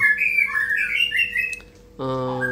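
A white-rumped shama (murai batu) with a black tail sings clear, rising whistled phrases, then breaks into a harsher buzzing call, close and loud against a quiet background.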